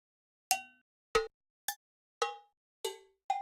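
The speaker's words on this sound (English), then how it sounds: "I'm going to give it a cowbell sound" Six separate cowbell clicks from the PolyNome metronome app, evenly spaced at roughly 0.6-second intervals, each a bright metallic strike with a quick decay, heard alone with nothing between them.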